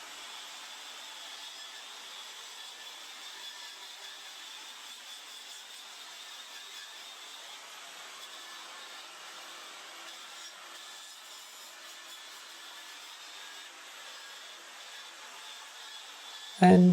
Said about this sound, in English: the final step is wire brushing the entire piece so that there's no discoloration, everything would look smooth